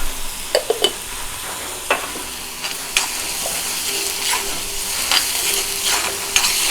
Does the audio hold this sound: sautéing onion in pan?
yes